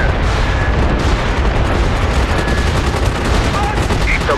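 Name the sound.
artillery fire in the video game MAG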